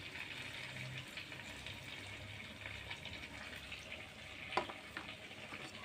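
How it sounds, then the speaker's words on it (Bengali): Whisked sour yogurt poured into hot spice paste for a Bengali katla fish kalia, giving a steady, even sizzle and bubbling with a soft splash partway through; no one speaks. "এবার আমি এর ভিতরে দেবো টক দই ফাটানো"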